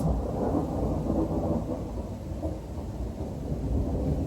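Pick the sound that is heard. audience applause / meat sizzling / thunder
thunder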